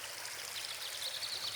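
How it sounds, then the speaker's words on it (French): A babbling woodland stream gurgling steadily and softly up close, with faint bird chirps flickering above the flowing water. "La quiétude du ruisseau chantant fait écho à la mélodie enjouée des oiseaux."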